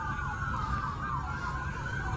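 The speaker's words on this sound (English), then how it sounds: "Now you hear all the police cars, right?" Police car sirens wail steadily during a police chase at an intersection, a loud continuous warbling sound over traffic rumble, with no talking.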